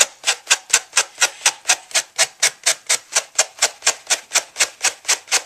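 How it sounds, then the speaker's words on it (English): A sanding block rubs the corners of a composition book in quick, evenly spaced strokes, about four per second. The steady, close, raspy scraping goes on alone without a break. "And then I use a sanding block to just even off the corners."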